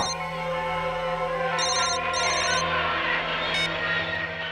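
A telephone rings in repeated electronic bursts over a steady background hum, with no talking.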